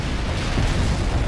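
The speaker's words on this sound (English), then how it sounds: "Romanov, call in artillery and airstrikes on them." Artillery and airstrike explosions in the World in Conflict strategy game, a dense, continuous low rumble of blasts rolling together loudly with no clear gaps and no talk.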